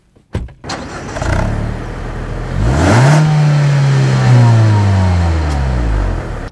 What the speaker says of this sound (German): ich drücke jetzt mal den Startknopf und dann nehme ich euch mal mit auf eine Runde im Mazda 2